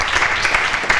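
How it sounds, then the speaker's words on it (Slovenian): Applause from an audience at a live outdoor folk music event, a short steady burst of clapping welcoming a performer onto the stage, fairly loud and continuous with no voices over it. "Dajmo en velik aplavz torej za Francija Pirša."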